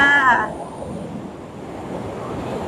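High surf about a metre and a half tall breaks on a white sand beach in Phuket, a broad continuous wash of waves and wind after a brief voice at the start.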